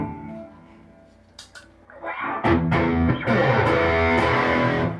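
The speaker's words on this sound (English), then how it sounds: "We are using the Overdrive channel of the PRS MT15 back there." PRS SE electric guitar on its bridge pickup through the overdrive channel of a PRS MT15 amp: quiet picked notes at first, then loud, crunchy distorted chords strummed in bursts that build and sustain.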